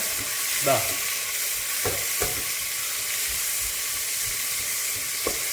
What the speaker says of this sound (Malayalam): ഇത് നേരത്തെ മുറിച്ച് വെച്ച തക്കാളിന്റെ പകുതി കൂടി ഇതിലേക്ക് ഇട്ടിട്ട് ഒന്ന് നന്നായിട്ട് വീണ്ടും വഴറ്റിയെടുക്കുന്നു